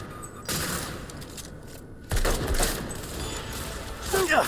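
Gunfire in the video game Cyberpunk 2077 on PC erupts in loud rapid bursts, a sustained fusillade, a short lull, then another heavy volley with game sounds and voices mixed in.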